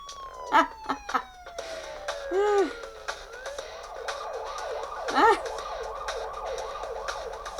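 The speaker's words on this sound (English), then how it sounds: "Sirens." Synthetic video game siren wails rise and fall in repeating sweeps, joined by short electronic blips, fairly quiet and with no voices over them.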